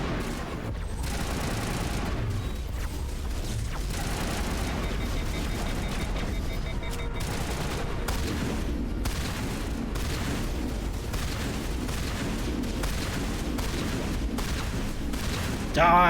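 Shotgun blasts and other gunfire in a Mass Effect Legendary Edition firefight against Geth on Ilos, a dense, continuous barrage of loud booms and shots over steady game noise.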